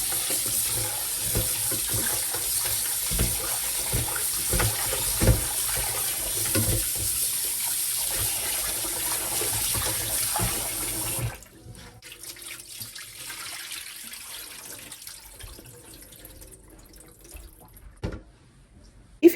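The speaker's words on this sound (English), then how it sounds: "First of all, wash it with just cold water" Cold tap water runs steadily over raw beef heart in a sink, a constant splashing stream that stops partway through, leaving faint drips and small handling noises.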